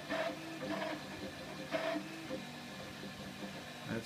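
Flashforge Dreamer 3D printer running a print job, its stepper motors giving a steady mechanical whir with recurring short higher-pitched bursts at a moderate level, no voices.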